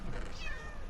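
A cat in Minecraft gives a single drawn-out meow, loud and close, over a dense background of game noise.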